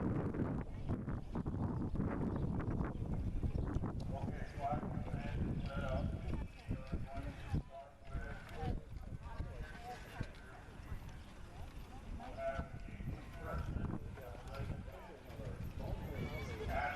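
Horses pull a single cart through an obstacle driving course at a carriage show, with hoof clip-clops, a whinny and wind across an open field under steady commentary.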